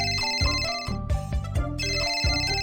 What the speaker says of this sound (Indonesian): Telepon berdering.